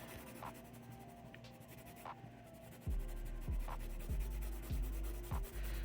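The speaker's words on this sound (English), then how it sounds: "Now we're going to go on with the same color, but color lightly or slightly harder to make some type of shade." A colored pencil rubs lightly across paper, shading with the same color in soft, steady scratchy strokes, close and quiet, with a few firmer passes adding rhythmic rasping toward the end.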